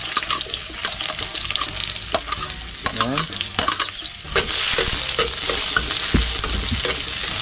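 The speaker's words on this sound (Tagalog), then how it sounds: "Okay, lagay tayo ng bawang." Garlic is tossed into a hot pan while cooking coconut-milk bamboo shoots. Scattered clinks and a brief running-water sound come first, then a loud, continuous sizzle bursts up and holds for the last few seconds, with no talking.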